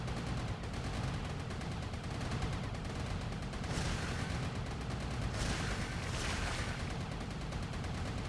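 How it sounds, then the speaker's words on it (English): Mutalisks die in a StarCraft: Brood War battle against cannons and hydralisks, heard as a dense, continuous wash of crackling bursts, rapid fire and explosive hits at a steady moderate level. "You like the sound of mutas dying in the morning?"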